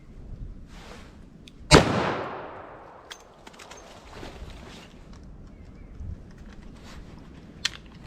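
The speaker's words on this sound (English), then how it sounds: "Let me try the 357. All right, 357 mag." A single loud .357 Magnum revolver shot cracks out close by and rings into a long decaying echo, followed by faint scattered knocks and handling noises.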